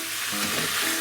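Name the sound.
miso-koji marinated pork steak sizzling as it is flipped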